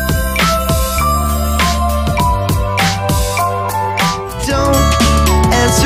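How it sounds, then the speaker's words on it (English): An iPhone ringtone plays loudly, a bright melodic tune of repeating chime-like notes in a steady rhythm with bass beneath, continuous and without any voices. "Don't answer the phone when you hear the iPhone ring."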